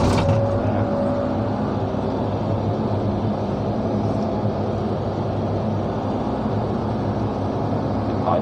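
A truck reverses over wet fill at a dirt-filling site, its engine making a dense, continuous rumble that stays loud and even from start to finish, with no talking.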